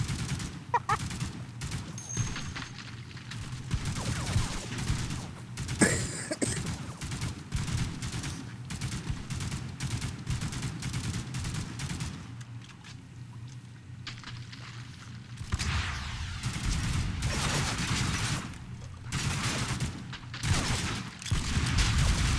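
Sustained gunfire from plastic army toy soldiers in the multiplayer shooter Mean Greens Plastic Warfare, dense rapid bursts and scattered shots rattling on for many seconds with brief lulls, loud and close.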